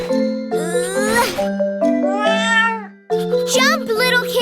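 Cartoon kittens meow in a run of rising and falling cries at a pool party, set against bright chiming music and ding-like tones that fill the whole stretch, with a brief pause near the end.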